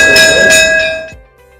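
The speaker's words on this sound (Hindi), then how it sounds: "बज गई घंटी।" A school bell rings loudly and close with a bright, steady metallic tone for about a second, then cuts off and fades.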